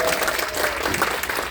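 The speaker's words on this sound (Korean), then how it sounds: "이 편지 내용을 믿으시면 다시 한번 박수 한번." A seminar audience of office workers claps together in a short, loud burst of applause, close and dense, lasting only a moment.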